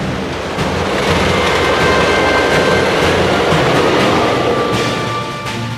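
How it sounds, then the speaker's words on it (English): A train running on the railroad line that passes through Sing Sing prison, a loud continuous rumble with faint clatter that swells after the opening second and holds steady throughout, with no voices. "Sing Sing holds the unusual distinction of being the only prison with a railroad running through it."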